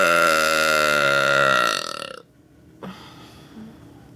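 A long, loud, resonant burp drones for about two seconds before breaking off, followed by quieter room sound and a faint voice.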